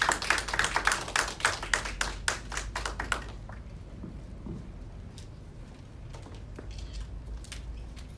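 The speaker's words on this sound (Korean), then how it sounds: "박수 부탁드립니다" Audience at a live women's policy presentation event claps in a dense, loud burst of applause that lasts about three seconds, then cuts off into a quiet room hum with faint scattered noises.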